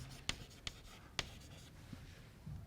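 Chalk or marker on a classroom board, a few short sharp taps and strokes in an uneven rhythm, close and fairly quiet.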